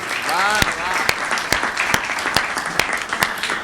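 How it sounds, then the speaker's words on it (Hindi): Audience applause at a Hindi comedy show, starting just after a voice fades and continuing as scattered, uneven claps with sharp individual slaps, moderately loud and fairly close. "एक बार जोरदार तालियां बजाइए"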